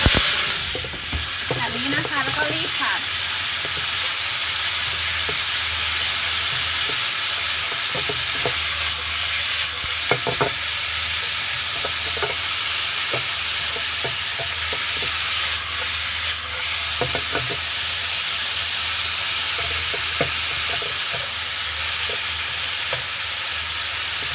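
Loud, steady sizzling and stirring of mustard greens in a smoking-hot oiled wok, a continuous crackling hiss with occasional scraping clinks, no voices.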